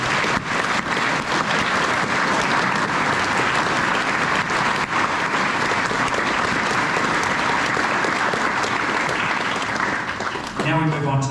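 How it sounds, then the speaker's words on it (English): Sustained, loud applause from a large crowd of students at a New Zealand high school assembly, steady clapping filling the whole stretch and stopping abruptly near the end. "Let's give them a round of applause."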